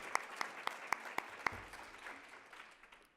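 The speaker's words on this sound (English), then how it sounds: "We could give another round of applause for our sponsors." Audience applause for the sponsors at a 2013 business forum event, beginning as a handful of loud, distinct claps that quickly blur into a softer, steady round of clapping from a modest crowd.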